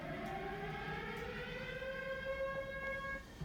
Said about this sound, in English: What you heard was that siren right there.